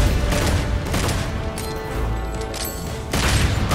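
Dense, rapid gunfire from the Xbox One action game Devil May Cry 5 rattles on loudly and almost without a break, with heavy bursts swelling near the start and again toward the end.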